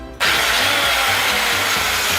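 A small rotary tool fitted with a paper cutting disc whirs at high speed with a sharp, steady whine after a quick start, loud and close.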